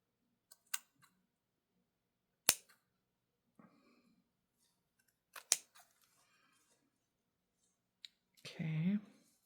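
Scissors snip through fabric scraps to cut a pocket piece, a few sparse, close, crisp clicks and cuts separated by quiet gaps, with a brief voice at the end.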